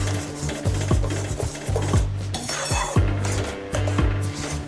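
Gram flour batter for Maharashtrian pithla is stirred into a pan over a low flame, giving a steady rhythmic scraping of a spoon against the pan with low hum underneath, close and continuous, no talk.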